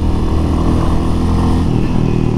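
Motorcycle ridden along a road near Shimla, a loud steady engine drone mixed with heavy wind rush throughout, close to the rider and continuous with no pauses.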